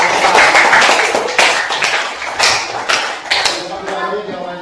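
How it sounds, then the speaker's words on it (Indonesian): Classroom of fourth-grade pupils clapping for the last group, a dense burst of loud applause in uneven surges, with voices and shouting mixed in throughout. "Berikan tepuk tangan yang meriah untuk kelompok terakhir."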